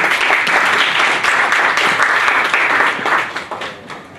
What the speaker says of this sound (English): Give them a big round of applause for their work.